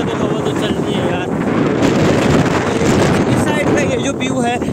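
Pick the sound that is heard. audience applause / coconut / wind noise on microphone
wind noise on microphone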